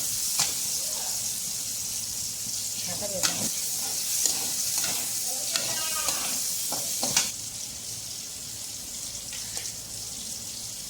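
Eggplant frying lightly in a pan, a soft steady sizzle with a few scrapes and clatters of stirring nearby and some faint watery background noise.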